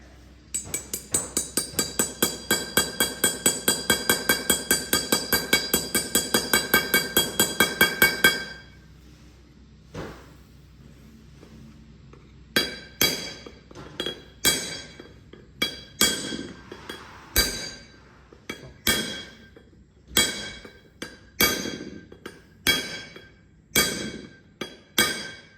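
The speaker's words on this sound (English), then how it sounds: "Let me just hammer it in with a brass hammer." Brass hammer striking a part being driven into place on a 1948 Diamond T 509 rat rod build: a fast run of sharp metallic blows, then a pause and a slower series of about a dozen separate, ringing strikes, close and loud.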